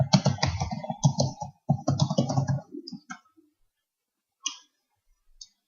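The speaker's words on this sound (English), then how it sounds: "I can still type here." Fingers type on a computer keyboard in a dense run of key clicks, pause, then tap a few scattered keys near the mic in an otherwise quiet room.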